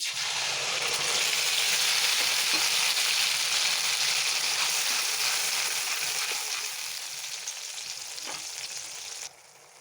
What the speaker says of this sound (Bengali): দিয়ে দিলাম সরষার তেল কালো জিরে পেস্ট করে রাখা টমেটো